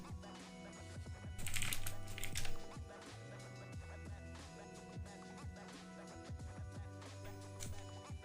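Someone types on a computer keyboard in rapid, uneven bursts of light clicks, heard under steady background music with no one speaking.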